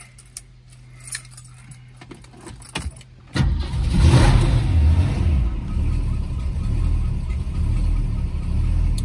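Keys jingle and click briefly, then a 1965 Ford Mustang GT Fastback engine cranks, catches and roars, revving up before settling into a loud, steady idle.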